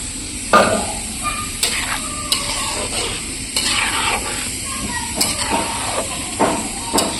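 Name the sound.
water poured into a hot pan, hissing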